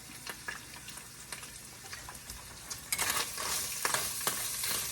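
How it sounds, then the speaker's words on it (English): Onion with a teaspoon of Monterey steak seasoning simmers in a pan, giving a steady low sizzle with scattered stirring clicks that grows louder and busier partway through; no one speaks. "And then we're just going to let that simmer for a while."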